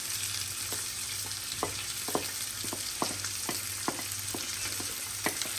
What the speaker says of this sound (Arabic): وملي نصوطو الخضيره ديالنا تصوطا مزيان